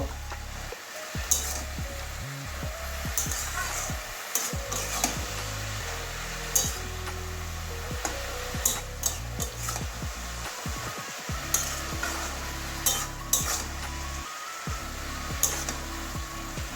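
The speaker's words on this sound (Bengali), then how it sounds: "সমস্ত সবজিগুলো শাকগুলো মশলার সঙ্গে ভালো করে কষিয়ে নেবো" Vegetables and greens, including flat beans, eggplant and amaranth stalks, are stirred and fried with spices in a pan, giving a continuous sizzle broken by repeated scraping strokes and occasional clanks of the spoon against the pan.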